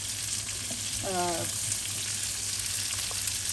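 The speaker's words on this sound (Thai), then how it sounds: "จากนั้นเราก็ใส่ผักลงไปเลยค่ะผักที่หั่นไว้นะ ก็จะมีพริกมีแตงกวา มีหอมใหญ่มีสับปะรดนะคะ" Chopped chili, cucumber, onion and pineapple fry in a hot pan for a sweet-and-sour shrimp stir-fry, a steady broadband sizzle running throughout, with a brief tonal squeak of the utensil near the start and no talking.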